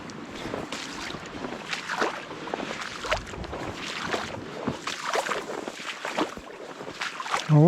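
A small boat moves across a Siberian lake in late autumn, with irregular splashing and knocking of water against the hull, fairly close and moderate in level, mixed with light wind; no speech.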